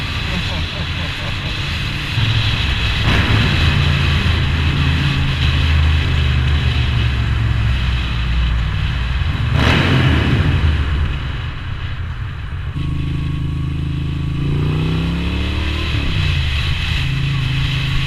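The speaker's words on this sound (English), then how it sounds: "playing with the exhaust note in this tunnel." A Moto Guzzi V9 V-twin motorcycle revs its exhaust inside a tunnel, a loud, sustained, echoing engine drone that climbs and falls in pitch as the throttle is worked, with no voices heard.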